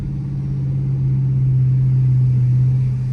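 Dodge Charger R/T V8 engine cruising at night, a steady loud low drone with deep rumble that swells slightly partway through, heard close from inside the car with no talking.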